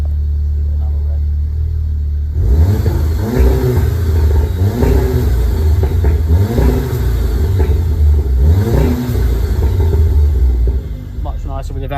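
A VW MK7 Golf R engine revs up and falls back several times in a row with its exhaust valve open, a deep, loud, booming rasp heard close by over an idle rumble.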